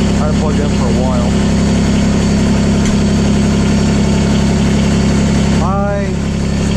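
A John Deere 332 lawn tractor engine idles steadily and loudly up close, a continuous low rumble with a brief whine rising near the end, and a person talking faintly over it.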